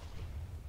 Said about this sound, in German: Komm, Creeper, explodier.